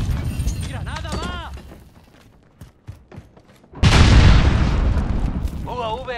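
A grenade goes off in Call of Duty Modern Warfare, a sudden loud blast after a brief lull, rumbling on for a couple of seconds after shouted voices and radio chatter.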